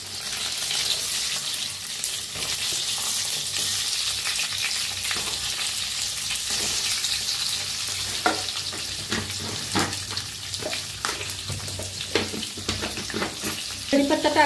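Green chillies fry in oil with cumin and asafoetida, producing a continuous bright sizzle with frequent spitting crackles and a few louder pops and stirring clicks toward the end.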